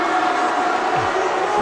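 A crowd at a high school basketball game between North Attleboro and Bishop Feehan roars steadily throughout, a dense wash of cheering and voices with no single standout shout.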